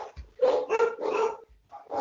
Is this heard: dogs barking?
yes